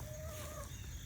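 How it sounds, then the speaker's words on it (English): Chickens on a farm give a brief clucking call over a steady, low outdoor rumble. "which explains why the chickens are here."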